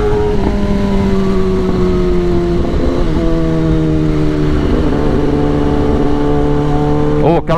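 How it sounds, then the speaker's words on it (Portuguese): A four-cylinder 400cc motorcycle engine revs loudly and steadily, its pitch climbing gradually in repeated pulls, with a sharp blip near the end. "Uma moto 4 cilindros, 400 cilindrada"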